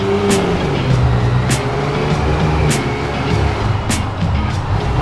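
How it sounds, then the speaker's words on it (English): A Yamaha MT-09 motorcycle engine on a test ride drones steadily and loudly with a constant rumble and wind noise, with a few sharp brief clicks or ticks spaced about a second apart. "we will test drive this MT-09"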